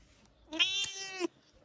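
A house cat lets out one drawn-out, whiny meow lasting under a second, close and clear against a quiet background.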